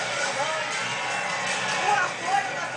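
A crowd cheers and murmurs for a motorcycle stunt rider, a steady broad roar of many voices with a couple of louder swells near the end.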